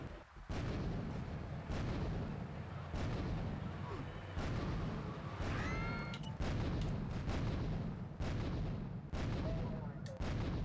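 Repeated heavy booms from a tank's turret cannon in the video game GTA3, landing at fairly regular intervals over a constant rumbling engine bed, with no talking.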